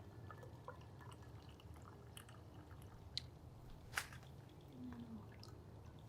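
Coffee poured from a plunger press into a cup, a faint, quiet trickle with scattered drips and a low background hum.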